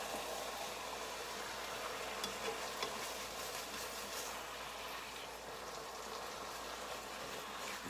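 Ground beef browns in a pan with a soft, steady sizzle and hiss, faint and continuous, with no talking.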